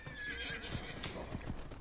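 Horses in the video game Age of Empires II HD clop their hooves in quick patter and let out a whinny, short and close, with no voices over them.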